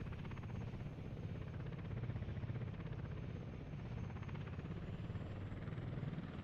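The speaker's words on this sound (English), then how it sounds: "there's the chopper." Helicopter arriving in the city-building game Workers & Resources: Soviet Republic, a steady, loud rotor thrum with a dense low-end pulse that holds without letup for several seconds, heard alone with no voices.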